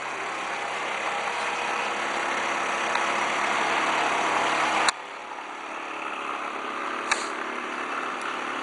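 A Moto-Zeta Rally motorcycle engine runs at a steady, fairly high idle, close and continuous, then drops to a quieter, lower idle after a sudden click partway through.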